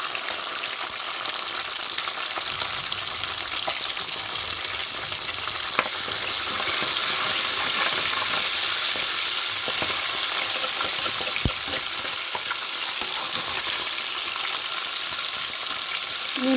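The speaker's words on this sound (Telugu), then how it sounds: "ఇప్పుడు మనం పచ్చిమిరపకాయలు వేసుకుంటున్నాను" Green chillies go into a pan of frying eggs, a steady sizzle and crackle of hot oil filling the whole stretch, with a couple of sharp clicks from a utensil against the pan.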